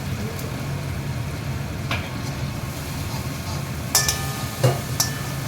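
Spice paste with cashews fries in oil in a pan and is stirred, giving a steady soft sizzle with a few sharp scraping clinks of the spoon near the end, while someone talks.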